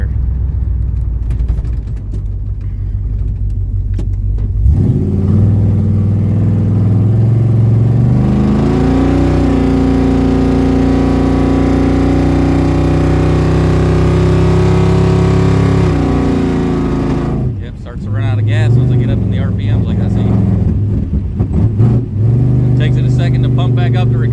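A 1974 Gran Torino Elite engine running rough on a failing fuel supply: a loud, steady idle rumble with rising revs, then a sputter and drop before it picks up again, with someone talking over it.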